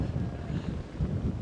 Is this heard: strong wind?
yes